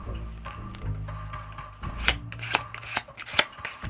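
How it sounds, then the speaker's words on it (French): A deck of playing cards is shuffled close up during a magic trick, with soft riffling and rubbing followed by several sharp snapping riffles, alone without speech. "Je vais mélanger ce paquet"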